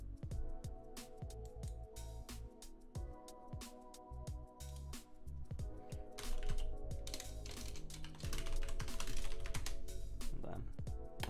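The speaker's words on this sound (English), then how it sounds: "In case you're wondering what I'm typing." Rapid computer keyboard typing during a Minecraft session, steady clicks running under game music and sounds, with a voice talking over parts of it.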